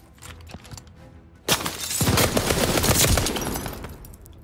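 Gunfire from a new gun in Call of Duty: Vanguard: a few scattered distant pops, then a sharp loud report followed by a sustained, dense burst of rapid shots with clattering impacts, tapering off toward the end.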